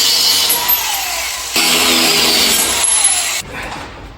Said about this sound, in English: get the grinder now and just cut these off a little bit shorter